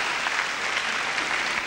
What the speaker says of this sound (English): And great applause for a good move.